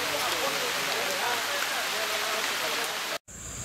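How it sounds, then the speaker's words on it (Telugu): Raindrops fall on open farmland soil in a steady, dense hiss of even loudness that cuts off abruptly near the end, leaving quieter background. "వర్షం చినుకులు నేరుగా భూమిపైన పడేదాని వల్ల భూమి గట్టిపడిపోతుంది"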